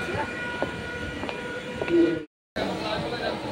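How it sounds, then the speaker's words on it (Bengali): A passenger train just pulling out rumbles and clatters from inside a carriage, with a few sharp clacks and background voices, broken by a brief dead gap before the rolling noise resumes. "ট্রেনে উঠলাম সবে আর ট্রেনটাও ছেড়ে দিয়েছিলাম"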